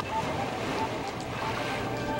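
Splashy watery rush as a character lands in water in Zelda: Twilight Princess, a steady broad wash of sound with no speech.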